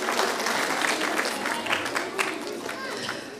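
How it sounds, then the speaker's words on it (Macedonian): An audience at a school celebration for Saints Cyril and Methodius applauds fifth-grade pupils with a dense, steady roar of many hands clapping at once, loud and unbroken for the whole short stretch. "Уште еден аплауз за пето оделенците наши, за нашиве умни глави."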